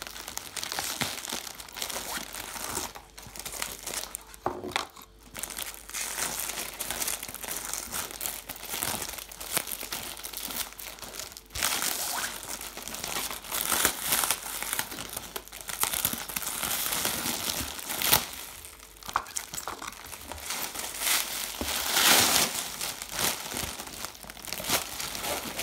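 Foil wrapper crinkles and tears as a chocolate Easter egg is unwrapped, a continuous close rustle of crumpling with sharper bursts of rips throughout, no voices.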